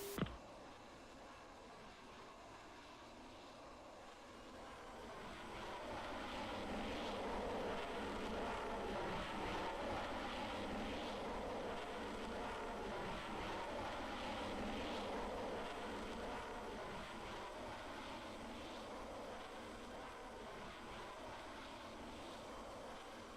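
Aircraft in the Falcon BMS flight simulator coming in to land on a runway, a steady broadband jet roar that swells after a few seconds and holds loud and continuous to the end.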